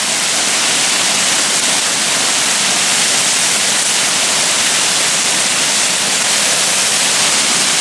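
A powerful, constant roar of Rainbow Falls in Gorges State Park, a dense rushing wash of water that never lets up, with no voices.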